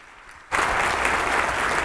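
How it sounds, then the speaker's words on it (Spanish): An audience at an accountants' day event bursts into applause for a speaker after a quiet moment, a dense, sustained wash of many hands clapping together, loud and even. "Recibamos con un fuerte aplauso a nuestro expositor"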